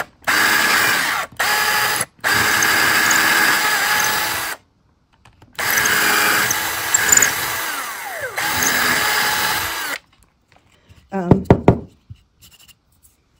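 A power drill works on a shoe shine box during restoration, buzzing loudly in several bursts separated by short pauses, with a few brief clicks and knocks near the end.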